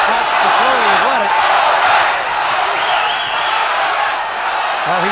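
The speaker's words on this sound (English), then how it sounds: "They're chanting Odom, Odom" Boxing arena crowd at a heavyweight bout, a dense roaring wash of voices chanting a fighter's name, loud and continuous, with a commentator talking over it.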